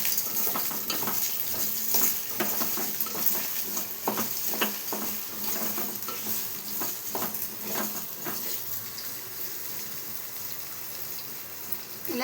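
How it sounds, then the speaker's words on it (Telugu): Bottle gourd pieces fry in a pan as a spoon stirs them, giving a steady sizzle with scraping strokes that come in irregular bursts and then ease off. "సొరకాయ ముక్కలు బాగా ఫ్రై అవ్వాలండి. ఇలా కలుపుకోవాలి."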